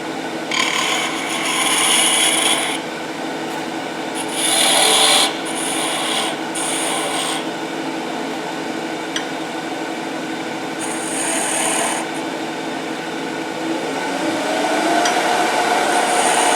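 The wooden stem of a spinning top is turned on a lathe, with a continuous motor hum beneath repeated bursts of scraping and rasping as the tool meets the spinning wood.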